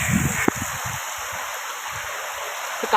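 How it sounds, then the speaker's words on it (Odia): Heavy rain pours down steadily around a tree that gives shelter, a dense continuous hiss with a few faint low thumps of drops close by. "ଏଠି ଯେ ବର୍ଷା ଅଲଗା ପ୍ରକାର ପଡୁଛି। କେତେ ଜୋର ବର୍ଷା ହେଲାଣି ଜଣା ପଡୁନି କିଛି।"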